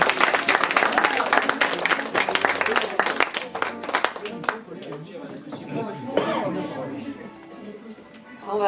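A school audience applauds performers at a slam poetry event, with dense, loud clapping for several seconds that thins out as voices and talk take over.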